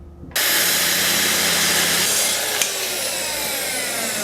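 A power saw cuts steadily through the wooden base of a nightstand, trimming it just inside the height of the molding; a loud, continuous rasping whine starts abruptly and holds for about four seconds, with no talking.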